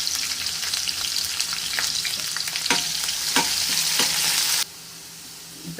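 Curry leaves and onions frying in oil for a Tamil coconut-milk fish curry, a loud continuous sizzle with spatula scrapes and crackles, then cutting abruptly to quieter sizzling near the end.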